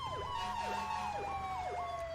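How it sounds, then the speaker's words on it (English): Emergency vehicle siren from a fire and rescue roleplay in a driving video game, wailing in a rapid, repeating up-and-down yelp that is loud and close and plays alone without talk. "We'll cut the siren."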